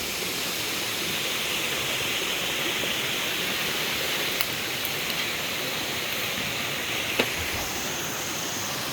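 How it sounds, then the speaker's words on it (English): Flowing water at Mae Sa waterfall in Chiang Mai gives a constant, even hiss of rushing water at moderate level, with a couple of faint clicks and no talking. "Check out that flowing water."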